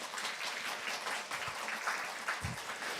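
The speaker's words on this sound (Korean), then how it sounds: "박수로 환영하도록 하겠습니다" A church congregation claps to welcome a new member during a Sunday morning service, a dense, even patter of many hands that holds steady throughout and sounds somewhat distant and soft.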